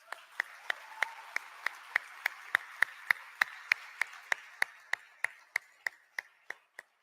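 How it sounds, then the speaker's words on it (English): Steady rhythmic clapping at a World Scout Conference in Cairo: about twenty sharp, evenly spaced claps over seven seconds, moderately loud and clear, with no talking over them. "You all deserve an applause for that"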